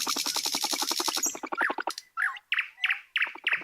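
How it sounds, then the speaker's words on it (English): A thrush nightingale sings, opening with a fast, rapid-fire run of repeated clicking notes, then breaking into a few slower, separate short whistled phrases, clear and close. "So here's the nightingale."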